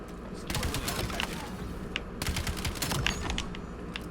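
Rapid SMG gunfire in Call of Duty Black Ops 7 multiplayer, two sustained bursts of fast shots with game effects around them, fairly loud and steady.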